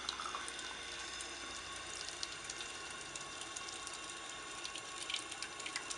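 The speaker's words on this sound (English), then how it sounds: "we're going here to the water fountain" Water from an outdoor drinking fountain runs in a steady, close hiss and splash, continuous and even throughout without any voices.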